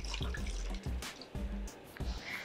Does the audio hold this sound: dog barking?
no